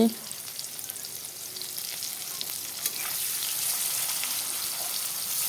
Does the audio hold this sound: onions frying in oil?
yes